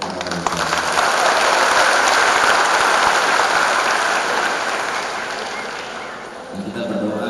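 Sustained, dense applause from a large audience at a university graduation ceremony in North Sumatra, loud and steady for several seconds, then fading before an announcer's voice returns.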